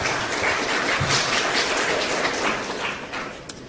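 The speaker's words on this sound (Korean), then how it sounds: "박수도 쳐보세요, 그러면." Lecture attendees at a Korean human-resources conference applaud together in a hall, a dense, even wash of clapping from across the room that thins out toward the end.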